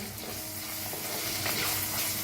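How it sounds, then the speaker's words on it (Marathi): Ginger-garlic paste fries in a pan for a sprouted moth bean usal, giving a steady soft sizzle with faint stirring scrapes throughout, close and continuous with no talking. "ह्याच्यात टाकूया अद्रक लसूणचं पेस्ट त्याला बी मिक्स करून भाजून घेऊया"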